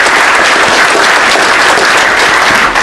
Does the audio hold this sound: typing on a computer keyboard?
no